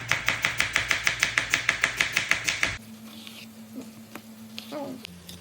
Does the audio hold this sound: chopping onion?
yes